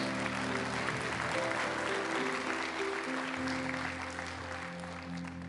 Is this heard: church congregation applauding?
yes